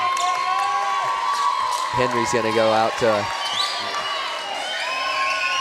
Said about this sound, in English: a roar from the crowd